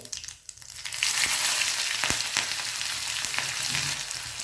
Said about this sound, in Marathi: तेल गरम झालेलं आहे यामध्ये आता मोहरी हे पहा मोहरी अशी तडतडू द्यायची